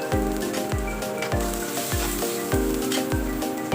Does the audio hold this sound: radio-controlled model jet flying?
no